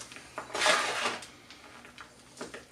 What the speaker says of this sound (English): Now if I fill up this pot here,